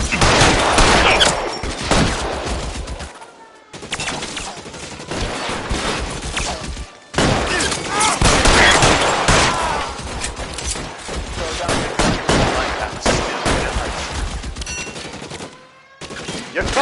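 Dense bursts of automatic and single gunfire from a shootout in the crime video game L.A. Noire, loud and continuous with brief pauses, mixed with shouted in-game voices.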